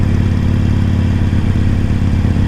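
A Harley motorcycle riding on compacted beach sand gives a loud, steady, close low engine rumble throughout, with no speech.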